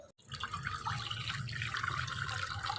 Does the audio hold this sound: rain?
no